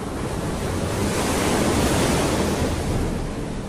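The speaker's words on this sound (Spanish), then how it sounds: "Hoy tenemos a la tormenta tropical Beryl enviando estas olas que han arrastrado la arena de la playa" Ocean waves from Tropical Storm Beryl surge onto Rockaway beach in Queens, a dense, steady roar of surf with wind noise, loud and unbroken throughout.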